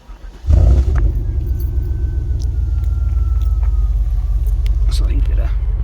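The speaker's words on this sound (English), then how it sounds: "he used the factory tips. He did a good job on this Flowmaster FX mufflers" A North Star V8 with replacement Flowmaster FX mufflers on factory tips starts up, settling into a loud, steady, deep rumbling idle.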